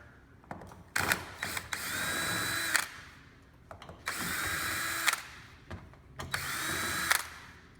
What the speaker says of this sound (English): you're gonna loosen off this panel using a 1/4 inch driver